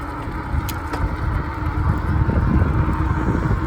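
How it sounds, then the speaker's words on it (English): Fat tires of an Ecotric fat tire bike give a low, steady hum on the road, rising slightly as the ride goes on, mixed with wind rushing past, close and continuous. "I love the hum of my tires"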